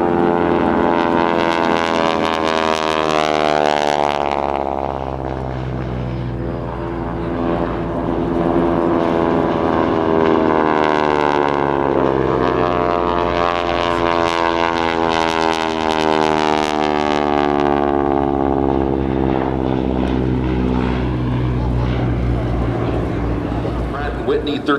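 A Harvard airplane with a Pratt & Whitney 1340 Wasp radial engine flies past at an airshow. Its loud, throaty propeller drone swells and recedes in waves with audible pitch shifts throughout. Commentary is heard beneath the engine roar.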